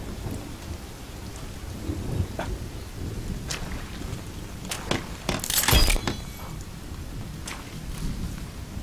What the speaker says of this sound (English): Seriously, it's rained twice this episode.